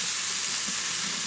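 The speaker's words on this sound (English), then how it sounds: "So we're gonna get these vegetables a nice char, the garlic" Tomatoes, jalapenos and garlic charring in a pot for homemade salsa give a dense, continuous sizzling hiss, loud and steady throughout.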